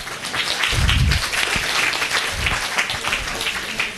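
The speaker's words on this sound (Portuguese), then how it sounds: "Uma salva de palmas." A room of attendees at an exam-prep lecture claps together in a warm, sustained burst, steady and fairly loud from start to finish, with a few low thuds or voices mixed into the clapping.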